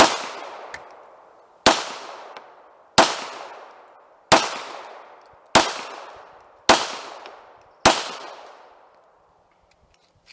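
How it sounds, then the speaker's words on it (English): Seven loud shots from a Walther P.38 pistol fired double action, evenly spaced about a second and a half apart, each a sharp crack followed by a ringing, decaying echo outdoors. "Going to start out with the Walther. Double action first."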